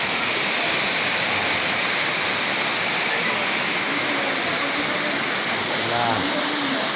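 Nangoloan Falls in Anghalo pours as a steady, loud rush of water with broadband roar throughout, and faint voices of people nearby can be heard beneath the torrent.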